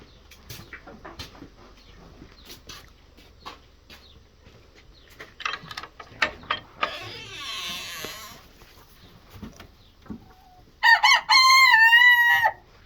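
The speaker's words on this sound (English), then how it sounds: "That's Neil, our rooster. These are our hens." Hens cluck and cackle in short bursts around a farm with a hog pit, then a rooster crows loudly and close near the end, with scattered clicks and rustling between the calls.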